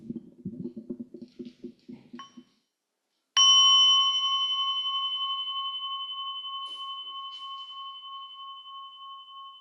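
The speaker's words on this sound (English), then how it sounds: "So with this first bell, massaging your body in preparation for standing." A single meditation bell is struck once during a sangha gathering and rings out clearly, its long, pure tone slowly fading over several seconds after a short stretch of quiet voice.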